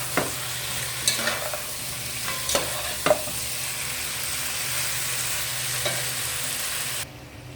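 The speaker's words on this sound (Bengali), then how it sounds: "এবারে আমি চিকেনগুলো ঢেলে দিব।" Chicken pieces for tandoori butter chicken fry in a pan, giving a continuous close sizzle broken by several spatula clicks and scrapes as they are stirred. The sound cuts off abruptly near the end.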